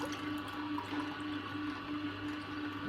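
Juice or water drains out of a Kuvings whole juicer in a steady, even, low-level liquid rush, with a faint motor hum underneath and no talking.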